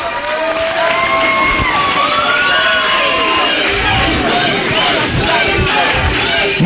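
A wrestling crowd roars with loud sustained cheering, whistles and shouting during a Chris Hero versus CM Punk match, with scattered thumps beneath the dense noise.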